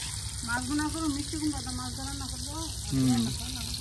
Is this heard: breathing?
no